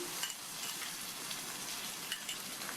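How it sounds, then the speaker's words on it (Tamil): Crushed garlic sautés with onions in a pan for a drumstick dish, giving a steady close sizzle and frying hiss with faint stirring clicks and no talk. "பூண்டு சேர்த்துட்டு மறுபடியும் இதை நல்லா ஒரு 1/2 நிமிஷத்துக்கு வதக்கி விட்டுக்கணும்"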